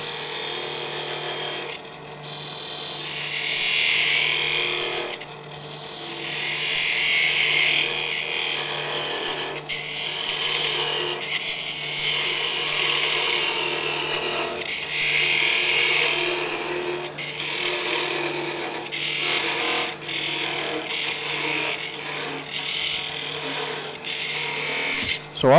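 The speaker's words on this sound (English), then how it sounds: "cut it off with a parting tool while the lathe is still running" Wood lathe spinning at around 900 RPM while a whiskey tumbler is turned, a steady broadband hiss and rasp of the tool cutting the spinning blank, continuous and close with a low motor hum underneath.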